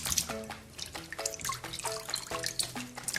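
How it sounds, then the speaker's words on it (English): Water poured over rice in a sieve during washing, a trickling, dripping stream with repeated liquid splashes and small plops, close and moderately loud, with no talk. "Just add some water to it."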